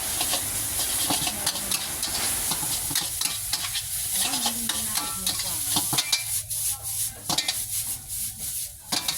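Instant noodles with egg being stir-fried in a pan for Thai mama pad kai, with loud continuous sizzling and hissing steam broken by repeated clattering scrapes and stirs of a spatula, close up and with no talking.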